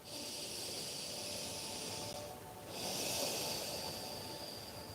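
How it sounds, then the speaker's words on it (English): Slow, deep breaths drawn in and pushed out through the nose during a gentle yoga session, a steady airy hiss that swells and fades across the moment, close and fairly soft with no talking. "Inhale and exhale through your nose, gently moving"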